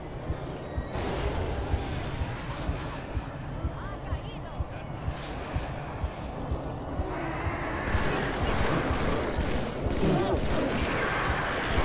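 Halo 3 gunfire on Xbox 360, dense continuous crackle of shots and explosions throughout, loud and busy, with a voice talking over the game action.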